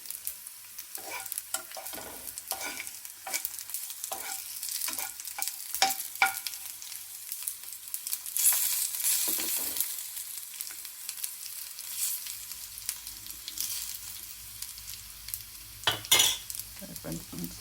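Garlic in oil sizzles softly in a pan as a utensil stirs and scrapes in quick, irregular strokes, with no voices.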